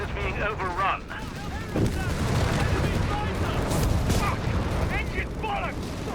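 Battle gunfire from Company of Heroes 3 with a Panther tank advancing under heavy Allied fire, heard as steady overlapping shots and booms beneath constant game noise while a commentator talks throughout.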